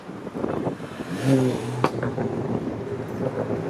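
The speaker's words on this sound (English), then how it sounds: "Does that guy want to like rev?" A car revs on Lake Shore Boulevard West near Exhibition Place in Toronto, heard as a brief engine surge among passing traffic noise, moderately close.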